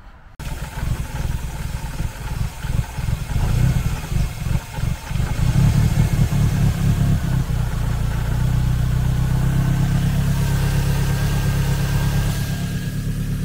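A Mercedes W201 engine with its coolant sensor wires bridged starts with uneven chugging pulses, then settles into a steady, loud, close idle drone.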